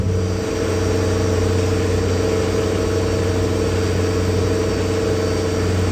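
Lamborghini SC63 endurance race car engine idling at the 6 Hours of the Glen, a steady, loud low hum with a constant tone and light mechanical chatter, running alone without speech.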